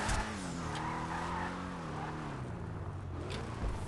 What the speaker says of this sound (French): Je prends mon véhicule et je vais aller le mettre dans le carré blanc du parking.